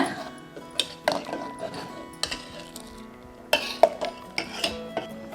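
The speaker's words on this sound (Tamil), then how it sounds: "அப்பப்போ கலந்து விடணுங்க" A pot of pongal being stirred in a brass vessel, giving a run of scattered metallic scrapes and clinks at an irregular pace, fairly close, with a low murmur behind.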